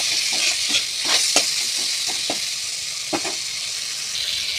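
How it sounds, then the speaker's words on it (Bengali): Five green chillies and ginger paste fry in a pan, hissing and sizzling loudly and continuously as a spoon stirs and scrapes them at close range. "তারপর দিয়ে দেব 5টে কাঁচা লঙ্কা। তারপর দিয়ে দেব আদা বাটা। দিয়ে নাড়াচাড়া করে মিক্স করে নেব।"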